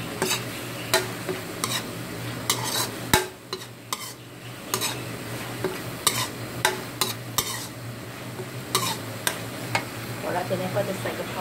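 Minced pork with holy basil stir-fries in a pan, a steady close sizzle broken by frequent scraping and clacking of a utensil against the pan.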